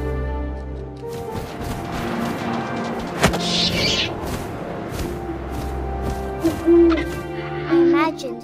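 Owl hooting in the video game What Remains of Edith Finch, soft hoots sounding against ambient game wind and rustling, with a sharp hit partway through and a few brief tonal calls near the end.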